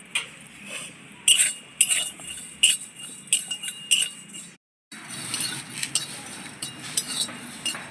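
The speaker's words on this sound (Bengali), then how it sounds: "এবার আমি প্রথমে কিছুটা জিরে আর ধনে ভেজে নেব।" Cumin and coriander seeds dry-fry in a hot kadai on a stove, with a soft hiss under repeated close metallic clinks and scrapes from stirring, broken by a brief pause midway.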